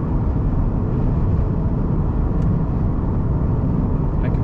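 Inside a Rivian R1T Launch Edition electric pickup driving on a rough road, a steady, loud broadband tire and road rumble fills the cabin with no gaps.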